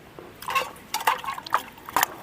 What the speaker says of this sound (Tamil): இந்த மாதிரி தண்ணி மாற்றி மாற்றி அலசிக்கலாம் நல்லா கழுவி எடுத்துக்குவேன்